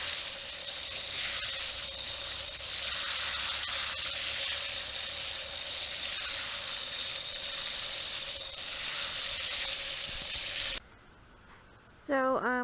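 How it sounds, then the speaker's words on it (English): A hose runs water steadily onto tomato straw bales in a garden, a continuous hissing spray lasting most of the span before cutting off abruptly near the end, followed by a brief different sound. "So we're just getting this watered in here."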